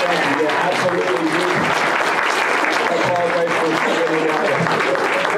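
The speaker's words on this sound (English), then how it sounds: "Let's make sure we get a big round of applause for Duke." A conference audience claps in steady, dense applause that runs unbroken the whole time, close and loud, with voices mixed in.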